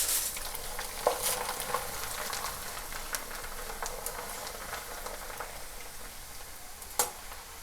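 Corn flakes (poha) frying in hot oil, a continuous dense sizzle and bubbling with occasional clicks and scrapes of stirring, close and steady with no talking.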